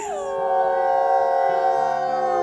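Wolves howl in the WolfQuest video game, several long, loud, layered tonal howls close by that hold steady and slowly fall in pitch, alone without talk.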